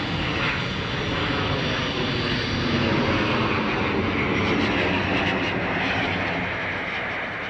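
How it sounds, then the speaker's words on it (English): Small training aircraft flying over flat Lincolnshire country at an RAF cadet college, a steady loud engine drone that holds throughout with no talk. "with the constant movement of small aircraft"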